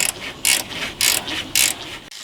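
Ratchet wrench undoing bolts to remove the air-conditioning condenser from a Toyota 60 Series, four bursts of fast clicking strokes in a steady rhythm, close and loud.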